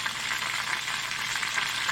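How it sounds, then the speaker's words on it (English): Pounded chicken fried steak fries in coconut oil in a pan, giving a steady, even sizzle close up with no voices. "Here's one that's cooking, and it looks better. Here's one that's frying."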